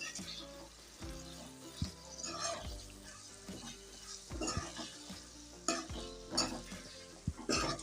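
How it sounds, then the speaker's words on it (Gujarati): Okra being stirred in a pan with yogurt for a Kathiyawadi-style dahi bhindi curry, giving soft scraping and mixing sounds over a quiet sizzle, with a few sharper clinks of the utensil against the pan. "હવે ભીંડાને સરસ રીતના હલાવી અને મિક્સ કરી લઈશું"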